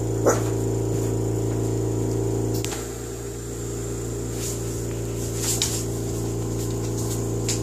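Scattered short barks from feral puppies, a few sharp yips standing out over a steady low hum that runs throughout.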